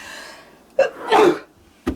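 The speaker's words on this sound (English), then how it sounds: "I'm trying to hold back a sneeze. I think it's getting the better of me." A stifled sneeze: a short nasal burst, a fuller explosive puff, then a brief sharp sniff, close and fairly loud.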